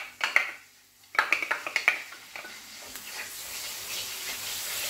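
Butter sizzling and hissing in a frying pan just after chicken is taken out, with scattered clinks of utensils against the pan early on, then a steady soft frying hiss.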